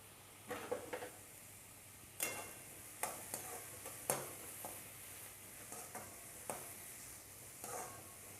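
Green chilies and curry leaves frying with golden-browned onion and tomato make a soft, close sizzle, broken by intermittent scrapes and taps of a spoon against the pan.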